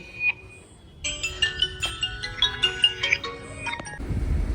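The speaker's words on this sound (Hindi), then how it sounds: "किसी का फ़ोन भी आ रहा है" A mobile phone ringtone plays during a village dinner gathering, a melodic run of electronic tones lasting a few seconds at moderate level, followed by a rush of wind noise.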